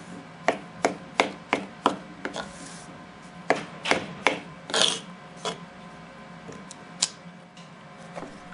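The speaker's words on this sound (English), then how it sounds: "show you how well this blade slices through materials" A Benchmade 580 Barrage stainless steel folding knife blade cutting through materials such as upright leather, a row of sharp rasping strokes in quick succession, then sparser slices, close and fairly loud.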